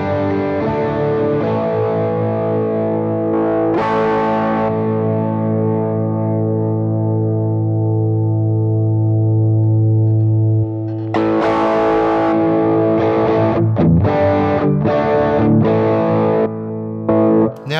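Guitar played direct through a Line 6 HX Effects with the impulse response switched off, giving a harsh, fizzy, distorted tone; a long ringing chord fades, then a burst of strummed chords follows, loud and alone.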